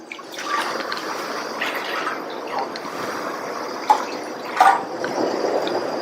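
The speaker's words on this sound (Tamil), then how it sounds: "அடுத்து இந்த பேன்ல 3 கப் தண்ணி சேர்க்கிறேன்." Three cups of water run steadily into a cooking pan for payasam with a soft, continuous splashing rush, a couple of brief clinks standing out near the end.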